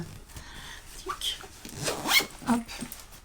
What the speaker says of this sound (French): Après, il se referme comme il se doit avec une fermeture éclair.